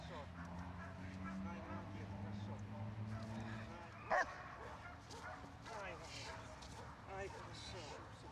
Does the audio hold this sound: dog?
yes